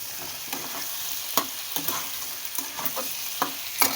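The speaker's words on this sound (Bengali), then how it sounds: "দেখো খানিকক্ষণ ভাজা ভাজা করে নিচ্ছি বেশিক্ষণ নাড়বো না আলুটা" Potatoes sizzle in oil in a home kitchen pan before chicken goes in, a steady close fry punctuated by regular scraping strokes of a spatula, with no voices.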